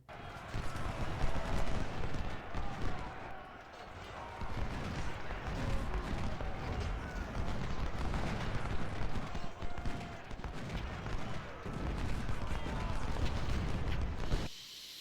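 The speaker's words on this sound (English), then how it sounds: "I think now I can turn the artillery onto Gibson." Artillery fires in the Civil War strategy game Ultimate General, a steady barrage of dull booms and crackling gunfire filling the whole stretch at moderate loudness.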